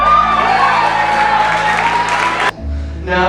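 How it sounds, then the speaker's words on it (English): An audience at a poetry contest claps and cheers for a first-place winner, a loud burst of applause with whoops and shouts that cuts off abruptly near the end, followed by a brief low hum and a fresh sound. "Let's have a big round of applause for Gertrude Stein."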